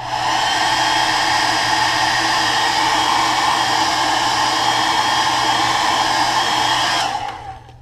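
Heat gun blowing on freshly painted crankbait lure, a steady, loud, close whirring roar held evenly for about seven seconds before it switches off and winds down, with no voices.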